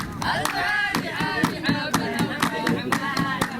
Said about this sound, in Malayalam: സായിപ്പുമാർ കൈയടിച്ച് പ്രോത്സാഹിപ്പിക്കുന്നു